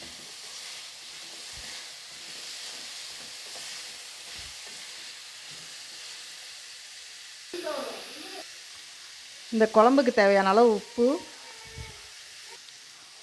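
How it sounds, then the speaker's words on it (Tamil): Murungai drumsticks sauté with chili powder and turmeric in a pan for a Thanjavur-style poricha kulambu, giving a steady low sizzle throughout, with brief speech and a short louder stirring burst near the end. "இந்த மிளகாய்த்தூளை போட்டு நல்லா வதக்கி விடணும்"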